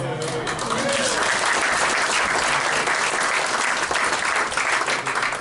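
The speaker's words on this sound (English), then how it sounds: "you owe her some applause" A crowd at a trade and tariff talk with a former minister applauds warmly, sustained clapping filling the room without letup; a voice is briefly audible at the very start.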